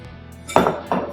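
Sweet potato and egg tortilla put back into a frying pan, two close clanks of metal and pan contact in quick succession, loud against a quiet kitchen.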